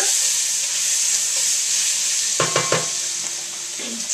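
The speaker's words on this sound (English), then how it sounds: "quick little stir," Onions in a pan seasoned with salt and pepper sizzle steadily, then a quick burst of stirring scrapes and clacks against the pan near the end, no talking.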